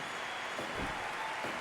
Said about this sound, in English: The crowd going wild here at Super Spirit Live.